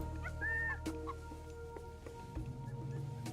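Chickens cluck and cackle in the Age of Mythology video game, a few short bird calls over a quiet, steady game ambience.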